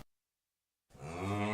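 A cow in the game Skyrim lets out a single loud, close moo that begins abruptly after a stretch of silence and holds steady to the end.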